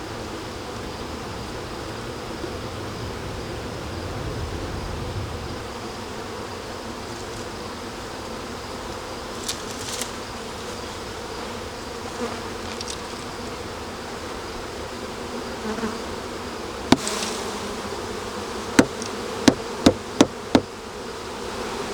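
Honeybees swarming around a hive in September, a dense continuous buzzing close by, with a few sharp knocks and taps on the hive wood near the end.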